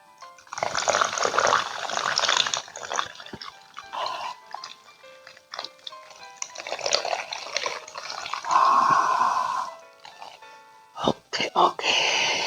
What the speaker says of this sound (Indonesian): Kita tuang lagi